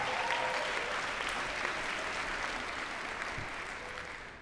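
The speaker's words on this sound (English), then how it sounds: "Give yourselves a round of applause." An audience applauds working mothers at a talk on organizational culture, with dense, steady clapping filling the room throughout and fading slightly toward the end.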